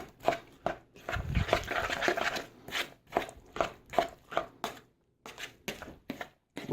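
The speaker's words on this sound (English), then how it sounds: "All right, and then we got our spoon here. I'll stir it up." A spoon stirs a bowl of fresh pico de gallo made with lime juice, producing a run of wet, chunky scrapes and clicks in a steady rhythm. It is close and fairly quiet, with a brief pause near the end.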